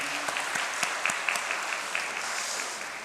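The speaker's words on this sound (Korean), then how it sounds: "축하의 박수 한번 쳐주시면 감사하겠습니다" A church congregation breaks into celebratory applause during the pre-worship announcements, a dense, steady wash of many hands clapping close by for about three seconds, with no talking over it.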